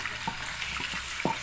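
Squid sautéing with ginger in a hot pan gives a steady close hiss of frying with watery sizzle, broken by a few soft clicks and taps, moderately quiet.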